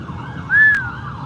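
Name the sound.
fire truck siren passing at car show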